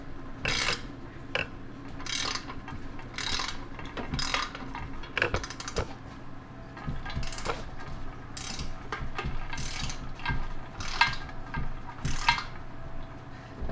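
A ratchet and socket cranking down a pressure cooker fitting, giving a steady run of close, repeated clicking bursts with brief pauses between strokes.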